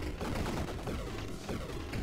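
Hell's Hand gun in the game Still Not Dead fires in a dense, continuous barrage of loud rapid shots with explosive bursts throughout.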